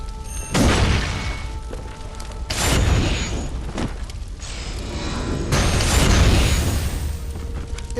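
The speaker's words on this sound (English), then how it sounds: "It's basically a grenade launcher" Grenade launcher firing in Bloodborne, three loud booming blasts at a steady spacing, each followed by a rumbling decay, with no talking.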